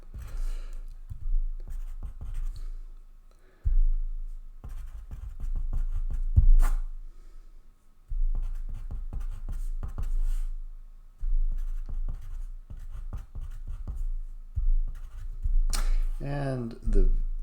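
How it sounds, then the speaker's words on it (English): A math equation written out by hand, soft scratchy pen strokes in short runs under a steady stream of speech from the person writing. "I'm going to write this out with one extra step"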